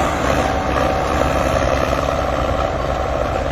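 A Sonalika DI-55 tractor engine runs steadily during a field demo, a continuous low diesel rumble with a constant throb, loud and close with no voices over it.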